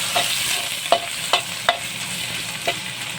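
Carrots stir-frying in a hot pan with garlic and salt, a continuous close sizzle broken by four or five sharp spatula scrapes at uneven intervals, no talk.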